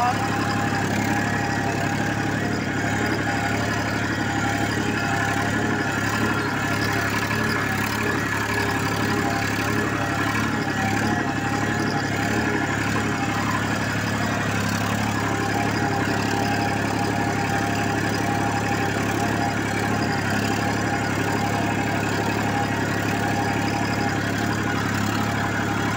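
A Massey 241 DI tractor runs steadily with a nine-tine tiller at about 1500 RPM, a continuous loud diesel drone with a low, even throb that holds without a break throughout.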